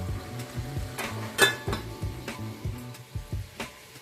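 An okra dish being covered with a lid in a pan: several clinking metal knocks and rattles, one sharp clang standing out, with a low steady hum beneath and no voices.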